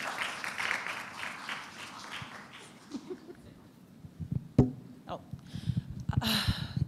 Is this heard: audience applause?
yes